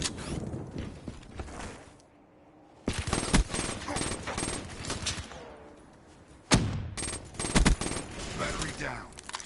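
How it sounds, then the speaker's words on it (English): Rapid automatic fire from a Razorback gun in a first-person shooter, dense loud bursts of shots broken by a short lull, with a person talking over the action. "That guy was about to gun me across the map with a Razorback"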